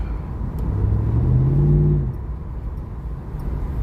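An LT1 F-body car engine with its intake snorkel removed revs up steadily, its low drone climbing in pitch for a couple of seconds before dropping back to a rumbling idle, close by.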